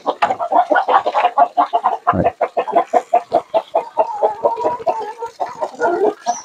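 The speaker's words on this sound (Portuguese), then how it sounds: "As galinhas dele aí." Chickens cluck in a busy, close series of rapid pulsed calls on a rural property, with a brief voice in the background.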